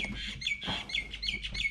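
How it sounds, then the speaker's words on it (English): Birds chirp outdoors in a repeated, rhythmic series of bright high calls over steady low background rumble, fairly close and continuous throughout. "I wish that bird would shut up."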